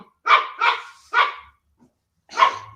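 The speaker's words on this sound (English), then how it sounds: "my dogs are going crazy, running laps back and forth, as you can hear" Dogs bark indoors in a quick burst of three sharp, fairly close woofs, a short pause, then one more bark, with faint scuffling in between.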